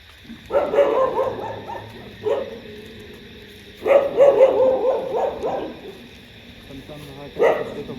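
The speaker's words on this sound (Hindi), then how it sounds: "ओ कुत्ते हैं।" Several dogs bark in two clustered bursts, followed by a single later bark, at an abandoned cremation ground at night. The barks are fairly close and loud, with soft whimpers and a steady electrical hum between them.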